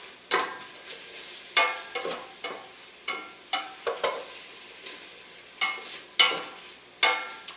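A pot of bean soup cooked with canola oil, heard as a soft bubbling sizzle punctuated by repeated short, sharp stirring scrapes and clinks at an irregular pace, close and fairly quiet.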